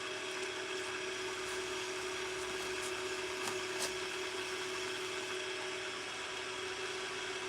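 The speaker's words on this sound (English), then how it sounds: "Gonna stop the lathe." Lathe running with a steady, even mechanical hum and whir, a faint continuous drone with a few soft ticks, no talking.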